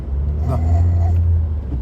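A car's engine drones low and steady from inside the cabin on a drive toward Nandi Hills, a constant rumble with road noise, while people talk softly over it.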